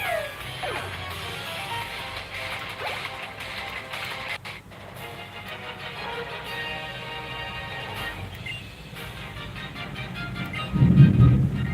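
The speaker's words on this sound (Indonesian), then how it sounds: "Wih, hujan nih guys" Rain and thunder heard during a Pokémon X battle on Android: a steady wash of rain with low rolling rumbles, and a louder crash swelling near the end, under background game noise.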